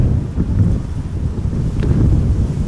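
Wind buffets a microphone at Amsterdam Schiphol Airport, a steady low rushing roar with gusty swells throughout, loud and close, with no talking.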